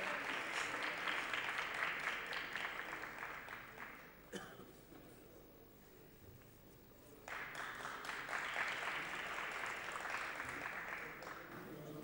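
Applause from the floor of the Turkish Grand National Assembly plenary session, a broad crowd clapping that fills the room, dips briefly to a quieter lull in the middle, then swells back to full strength.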